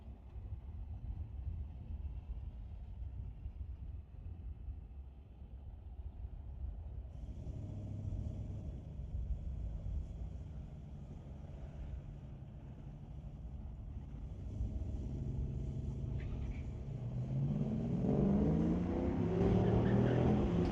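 Junior street-class drag race cars run down a drag strip, a distant, muffled engine drone that swells into a louder roar near the end.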